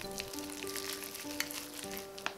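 Minced pork wonton filling, seasoned with oyster sauce, Sichuan pepper powder, ginger, sesame oil and egg white, being stirred in a bowl: a steady, close, wet scraping texture with a couple of sharper clicks and no voices.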